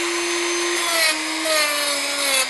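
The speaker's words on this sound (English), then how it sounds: "take your Dremel and the sanding drum and just Dremel right into where you put your marks" A Dremel rotary tool with a sanding drum whines at high pitch, its tone dipping slightly as it grinds into cosplay armor foam, steady and close.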